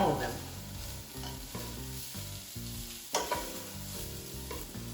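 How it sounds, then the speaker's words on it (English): Chicken pieces being stirred in a hot pan, a busy sizzle with scraping and clattering stir strokes in an uneven rhythm, close and fairly loud, with no talking. "Stir it around to make sure that you get a nice even cooking on all of them."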